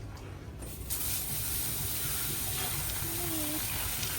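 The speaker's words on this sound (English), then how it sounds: "Quick shower before the cenote." Shower spray hissing steadily at a changing area near Chichikan Cenote in Mexico, a broad constant wash of water close by with faint background murmur.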